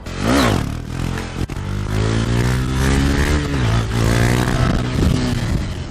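A motorcycle engine revs loud and close during a wheelie, its pitch rising and falling as the throttle is worked to hold balance, continuous for several seconds.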